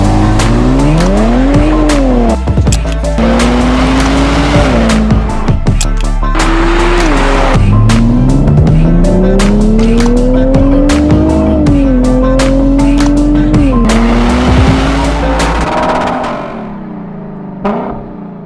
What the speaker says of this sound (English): This is the new Nissan Z.